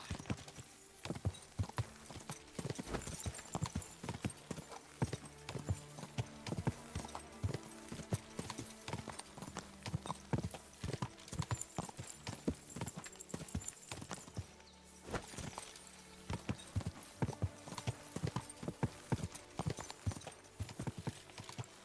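Horse hooves clip-clop steadily on a road in Kingdom Come: Deliverance II, a brisk rhythmic trot heard close and loud throughout with no talk over it.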